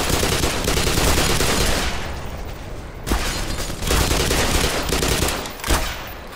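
Enemy shotgun fire in the video game Black Mesa: a dense, continuous burst of loud gunshots with sharp blasts standing out near the middle and end, close and unbroken by talk.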